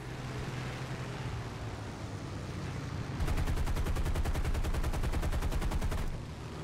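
Rapid aircraft machine-gun fire in a War Thunder Pearl Harbor dogfight: a dense, loud burst of fast, evenly spaced shots lasting about three seconds, with steady engine drone before and after.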